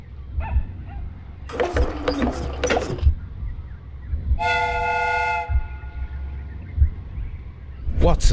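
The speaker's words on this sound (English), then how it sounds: "The steam whistle is ready to be used." Steam whistle of a replica train in the Sherlock Holmes Crimes & Punishments video game gives one sustained, steady harmonic blast of about a second and a half, set among clattering and rumbling game sounds.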